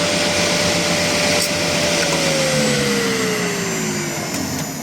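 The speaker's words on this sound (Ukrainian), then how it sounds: "Двигун працює, виключаємо." A 220 V Mini Mixer plastering machine's motor drones loudly and steadily, its whine slowly dropping in pitch as it winds down after being switched off.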